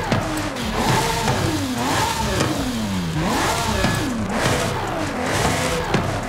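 A Lamborghini Sian engine in Forza Horizon 5 revs repeatedly, each sweep rising and falling in pitch. The sound is loud and continuous and is heard alone.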